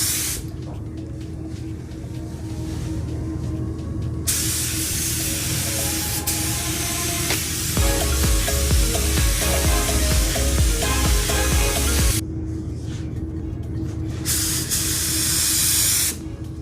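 A paint spray gun laying down metallic car paint, a loud, close, continuous hiss lasting over ten seconds, with short pauses at the start and end where a softer background hum remains.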